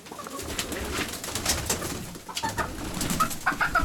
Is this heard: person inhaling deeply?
no